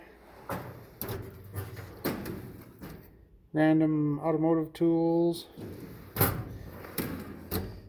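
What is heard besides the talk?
drawers opening and closing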